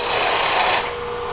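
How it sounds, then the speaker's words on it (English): A bench grinder wheel briefly touches a tool edge while sharpening, giving a loud steady rasping grind for most of a second before easing off to a lighter hiss, with no voices. "I'll just touch it to the grinder and make a little grind"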